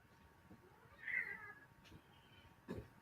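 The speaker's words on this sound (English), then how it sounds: "And there's my cat." A pet cat meows indoors, a faint, quiet cry in the middle followed by a shorter, louder meow near the end, set against soft room hum.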